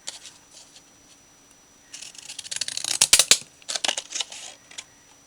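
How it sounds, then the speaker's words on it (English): Decorative scissors snip through card for a handmade Christmas card: a few faint snips at first, then a burst of close, crisp cutting clicks in uneven rhythm that tapers off. "if you've got decorative scissors, they work really well."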